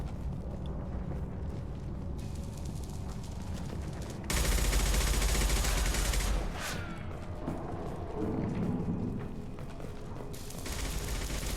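Rapid bursts of gunship gunfire in Mass Effect 2 crackle over a mechanical rattle, with one louder heavy blast midway and a rumbling burst later, all fairly close and loud.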